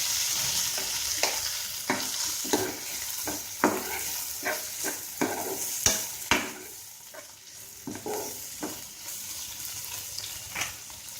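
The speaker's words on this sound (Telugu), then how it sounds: "ఇప్పుడు ఇందులోనే టమాటాలు కూడా వేసుకుని బాగా వేగనివ్వాలి." Browned onions and tomatoes frying in a pan for a veg poori curry, a soft steady sizzle broken by a series of sharp scraping stirs of the spoon against the pan, close by.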